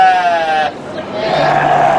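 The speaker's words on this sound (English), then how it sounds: "These are smaller sheep or lambs." Small sheep or lambs at a petting area bleat in two clear, nearby calls, a wavering cry followed by another after a short pause.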